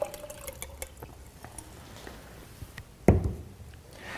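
Tomatoes soaked in tap water are poured into a container in a kitchen, faint drips and small knocks giving way to a short, louder splash and slosh near the end.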